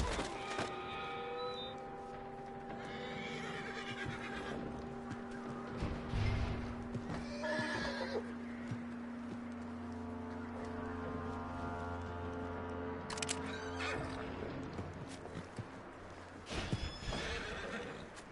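Horse neighing with clip-clopping hooves in the Red Dead Redemption 2 video game, whinnies rising over a steady beat of hoofsteps, close and clear, no talk.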